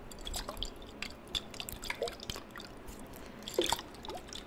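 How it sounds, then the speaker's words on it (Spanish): Water drips softly inside a container holding a small amount of water, a few faint scattered drops with quiet wet, squishy detail, close and intimate. "sonido de agua."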